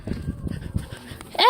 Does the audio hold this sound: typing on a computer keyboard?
no